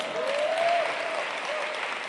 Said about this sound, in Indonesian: Mohon beri aplaus untuk sponsor saya Bapak Hasibuan Kanata.